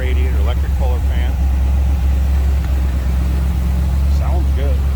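A 301 Pontiac V8 in a 1954 Chevrolet 3100 pickup street rod runs steadily, a deep low rumble close by and constant, with a voice talking over it.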